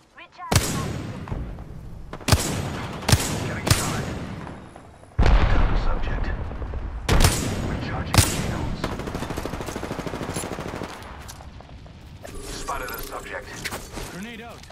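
Rapid bursts of automatic gunfire and heavy shots from a video game shooter, loud and dense with sharp impacts and a sustained rattling stretch, while a player's voice talks over it.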